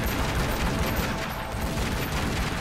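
Dense gunfire at enemies in the video game Tomb Raider Legend, during a boss fight in Ghana, rattles on loud and continuous as overlapping rapid shots with no speech.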